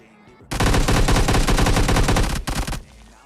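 MP5K submachine gun firing in PUBG Lite: a sudden, loud, rapid burst of automatic fire runs for about two seconds, stops briefly, then a short second burst follows, with no voices over it.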